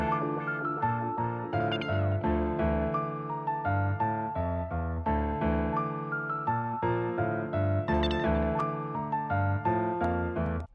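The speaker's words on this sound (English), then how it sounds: "Next, I added this guitar stab. I pitched them a little bit and put them in the pattern like so." Pitched guitar stabs hitting in a rhythmic pattern within an aggressive FL Studio piano beat, layered over a heavy bass and melody, dense and loud throughout with no talking.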